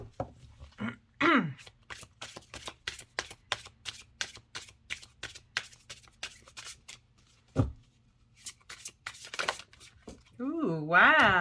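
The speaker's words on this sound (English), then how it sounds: "so we'll be shuffling that way now" Oracle cards are shuffled by hand in a rapid series of crisp flicking riffles, with a person talking briefly at the start and end and some rustling in between.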